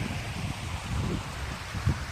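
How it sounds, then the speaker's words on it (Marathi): Water spills continuously over a small dam, a steady low rushing rumble with no pauses and no voices. "त्यामुळे कंटिन्यू पाणी वाहणं चालू आहे."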